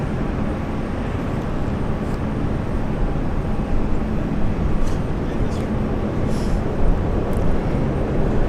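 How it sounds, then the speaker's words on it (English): An Air New Zealand airliner, flight 148 bound for Auckland, departs Brisbane International Airport at sunset with a loud, sustained broadband jet roar that holds steady throughout. "So our next international departure would be Air New Zealand flight"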